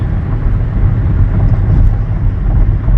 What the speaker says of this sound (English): This vehicle's accelerating.